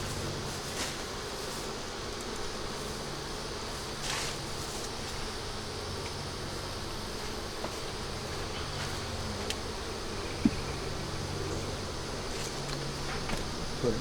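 Honey bees drone and buzz around a young starter nuc hive with an unmarked queen, a continuous close hum with occasional louder passes and faint handling clicks and knocks, no voices heard.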